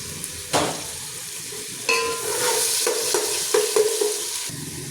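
Garlic and ginger fry on a low flame with yogurt in a pan, a steady sizzle broken by several sharp scraping stirs and light clinks of a spoon against metal, close up and without talk.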